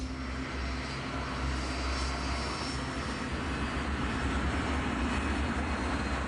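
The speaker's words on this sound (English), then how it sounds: "As the aircraft climbs out of Heathrow, Key, at the controls" Steady, loud airliner engine roar from BEA Flight 548 as it climbs out of Heathrow on a flight to Brussels, a continuous broadband rumble with low droning tones and no voices.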